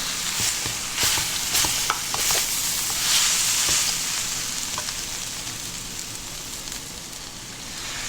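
Sizzling from a hot pan with scraping and clacking of a utensil as Chinese vegetable noodles are tossed, irregular stirring hits over a steady frying hiss.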